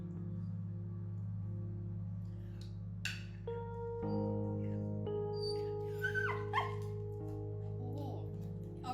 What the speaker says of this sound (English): That was like a semi-bark.